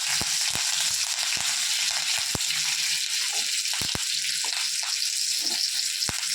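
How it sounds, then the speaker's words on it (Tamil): Mustard seeds, two dried chillies and curry leaves sizzle in hot ghee, a loud, continuous frying hiss with sharp pops and crackles scattered throughout and no voices. "நெய் காயட்டும் கொஞ்சம் கடுகு போட்டுக்கிறேன் ரெண்டு காஞ்ச மிளகாய் போட்டுக்கிறேன் கொஞ்சமாக கருவேப்பிலை போடுறேன்"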